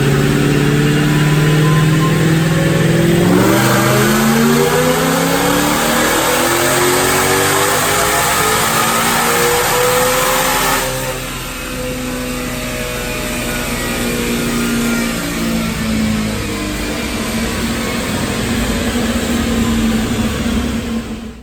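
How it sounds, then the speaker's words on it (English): Supercharged 2018 Mustang with a Whipple blower and automatic transmission, making about 690 rwhp, revs hard on a chassis dyno: a loud, continuous engine roar climbing through the gears, dipping briefly midway, then building again to the end. "I'm gonna make a dyno pull, get myself woke up."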